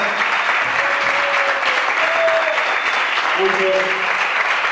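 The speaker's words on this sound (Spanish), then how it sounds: "Un fuerte aplauso para parte de los protagonistas" Crowd applause at a gathering honouring champion football players at La Bombonera, a continuous wash of clapping under a voice briefly speaking over it.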